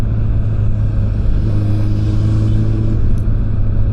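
A car engine is over-revving with a steady low rumble that holds at a high pitch throughout, with the pedal not returning fully. It is close and loud, with no talk over it.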